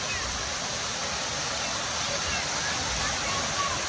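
Steady roar of a waterfall at a fishing spot where bait fish are being caught, a dense continuous rush of falling water filling the whole clip with no breaks.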